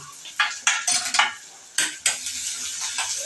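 Onion dropped into a pan after mustard seeds have spluttered, frying for a savory egg paniyaram batch; bursts of bright crackle and clatter of a spoon against the pan come in uneven clusters, close and fairly loud, with no talk.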